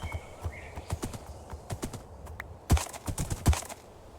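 Horse hooves in the TerraFirmaGreg game clip-clop in an uneven rhythm of close, crisp knocks, with a few louder, heavier steps near the end. No one speaks over them.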